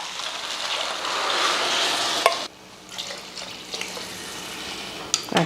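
Water pours steadily into a pot of soaked rice with a rushing hiss for about two seconds, then stops, leaving quieter clinks and small splashes.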